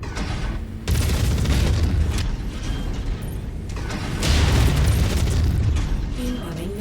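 Missile blasts and booming impacts roll through a mech combat mission in the game featuring the Hunchback, with low rumbling surges that swell loud near the start and again midway. Heavy mechanical clanking continues throughout.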